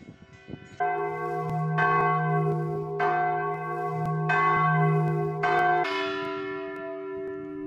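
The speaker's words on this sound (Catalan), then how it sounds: "I ressonen les campanes de la catedral barcelonina que es toquen de manera manual per primer cop en 91 anys" Large bells of Barcelona Cathedral, rung by hand, ring out in a slow sequence of heavy strikes, each leaving a long resonant hum, loud and close with no talking.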